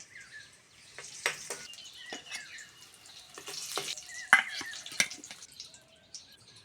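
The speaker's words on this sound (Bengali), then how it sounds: "ডিমগুলো ভালো করে ভেজে নিয়েছি তুলে নেব" Eggs frying in hot oil in a village kitchen, a busy crackling sizzle with scattered sharp pops and spits, close and fairly quiet, with no voices.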